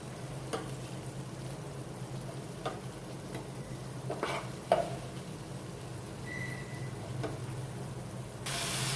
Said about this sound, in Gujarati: લસણ લસણને બે મિનિટ આ રીતે થવા દઈશું ફૂલ ગેસ પર આપણે થવા દઈશું